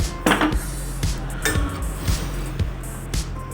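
Ingredients for a spinach and tomato keerai kadayal are stirred in a pan, a utensil scraping and tapping against the metal in a steady series of sharp clinks up close, with no talk.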